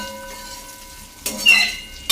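Banana slices frying in a pan on a home kitchen stove. A faint background hum gives way to short bursts of sizzling and stirring, with a utensil clattering against the pan near the end.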